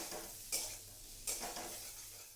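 Boiled potato and masala are stirred gently in a pan for a chana dal curry. A soft steady sizzle carries two brief scraping strokes of the spatula, faint and close.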